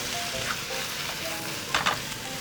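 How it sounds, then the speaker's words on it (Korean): Vegetables stir-frying in a hot pan over continuous high heat for a spicy squid and pork stir-fry, giving a steady close sizzle with a couple of brief louder crackling bursts near the end. "채소 넣고 다시 또 볶아주세요."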